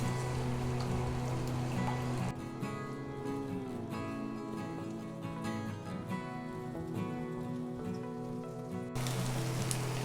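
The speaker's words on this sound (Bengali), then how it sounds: "এক সাইড করে এখানে ডিমটা ভেজে নিব" An egg fries in a pan during chicken noodle cooking, a steady, soft hissing sizzle that runs continuously through the whole clip without any voices.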